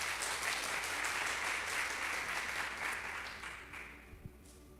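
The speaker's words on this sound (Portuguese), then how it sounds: "Quem acredita nisso, dê um aplauso ao Senhor." A church congregation at a Portuguese-language worship service claps together in a broad, even wash of applause that gradually thins and fades toward the end.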